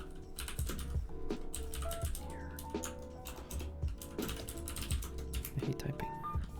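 Rapid clicking of keys on a computer keyboard, steady irregular typing bursts with faint mechanical clatter, close and fairly clear.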